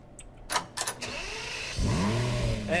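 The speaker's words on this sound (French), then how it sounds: "je vais juste rentrer la voiture là" A car engine in the game Garry's Mod DarkRP, starting with a few short bursts and then settling into a steady mid-pitched drone that rises in pitch near the end, heard alone without talk.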